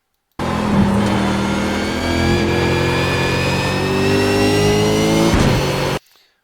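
Race car engine at Imola revving hard and climbing through the gears, loud and close, with rising pitch sweeps broken by quick shift dips before cutting off near the end.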